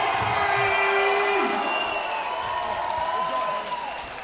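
MMA event crowd applauding and cheering for fighter John Stansberry, a dense roar of claps and whoops with an announcer's voice over the top, easing off slightly near the end.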